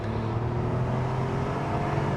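An Audi TT 3.2 engine pulls hard through the upper revs, a steady loud in-cabin drone with rising harmonic tones and no pauses.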